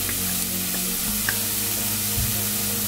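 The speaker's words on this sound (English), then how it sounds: "we're cooking on medium-high heat so the garlic doesn't burn" Onion, garlic and green onions fry on medium-high heat with a steady, close crackling sizzle, a few utensil taps and a low kitchen hum underneath, no voices.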